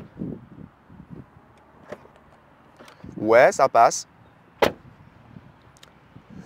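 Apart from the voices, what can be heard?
Tesla Model Y car doors closing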